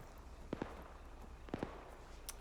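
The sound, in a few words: gunshots in a video game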